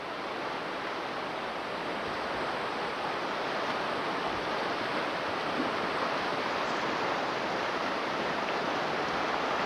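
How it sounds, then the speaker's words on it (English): Broadband rushing water from a small river rapid or little waterfall, met on a river float trip, steady and continuous throughout, fairly loud with no voices. "small little rapids or waterfall."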